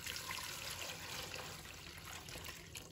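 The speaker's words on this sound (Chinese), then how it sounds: "把它放入盆中，倒入清水" Clean water pours steadily into a basin of carrots for washing, a continuous splashing rush close by with no voices.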